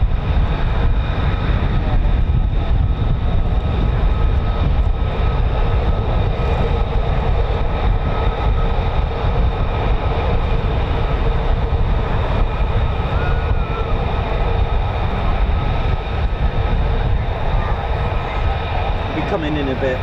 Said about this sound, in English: So just behind me there should be aircraft approaching on a full stop.